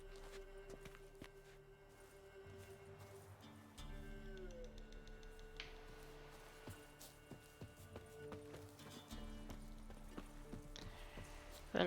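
Geralt's horse Roach trotting in The Witcher 3, a steady clip-clop of hooves under a low hum of game music and ambience, with a brief burst of noise at the end.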